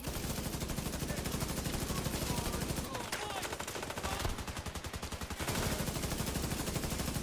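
Rapid automatic gunfire in The Division 2, in the Brooklyn area, rattles in dense sustained bursts with a short lull midway, loud and close.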